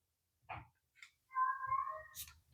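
A house cat meows indoors in a few short, close calls, including one drawn-out wavering cry, with brief soft knocks and rustles between them.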